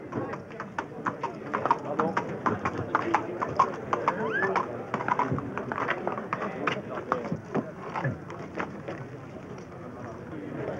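Hooves of a Barb Arab stallion clip-clopping on hard ground in quick irregular beats, with people talking over the steps.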